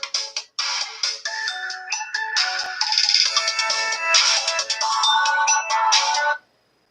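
A telephone rings loudly and clearly with an incoming caller, a melodic electronic ringtone repeating for about six seconds before it abruptly stops.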